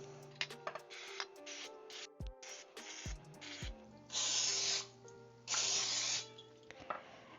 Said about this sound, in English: take a muffin tin and take your cooking spray and spray